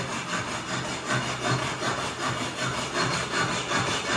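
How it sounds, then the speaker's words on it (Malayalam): Steady back-and-forth sawing through a metal curtain pipe, a continuous rasping rhythm of strokes close by and fairly loud, with no voices over it. "കർട്ടനുകളൊക്കെ സെറ്റ് ചെയ്യാനായിട്ട് കട്ടൻ്റെ പൈപ്പൊക്കെ കട്ട് ചെയ്തുകൊണ്ടിരിക്കുക"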